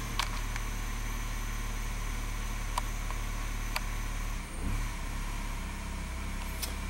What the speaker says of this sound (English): Engine speed has increased